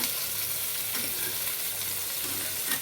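Small cubes of paneer sizzle and crackle steadily in hot oil in a pan, a continuous, fairly quiet frying hiss with faint stirring.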